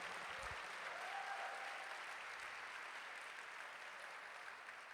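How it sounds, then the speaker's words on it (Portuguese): A church congregation clapping together, a faint, even wash of applause sustained throughout, heard from a distance. "Dá um aplauso ao Senhor"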